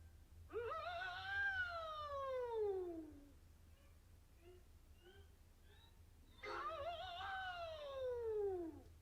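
Two long rising-and-falling wails imitating a Japanese air raid siren, separated by a quieter gap with faint warbling tones, over a low steady hum; the wails sound vocal, like an imitation.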